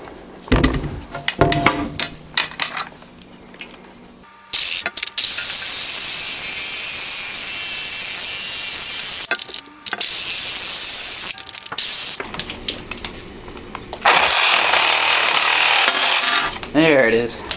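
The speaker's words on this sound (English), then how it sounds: "It's a good old reciprocating tool." A reciprocating saw cuts the hexagon head off a steel bolt: harsh, loud, hissing buzz in long sustained stretches broken by rattling clanks, stops and restarts, close up.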